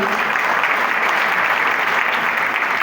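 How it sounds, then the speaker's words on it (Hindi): Loud, dense applause from a large audience at a community gathering in a hall, steady clapping throughout with no talk over it. "इन तमाम अफराद के लिए जोरदार तालियां होनी चाहिए।"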